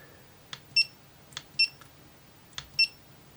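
Three short electronic beep pairs from a GoPro Hero camera, each a soft click followed by a brighter tonal chirp, spaced about a second apart against a quiet background.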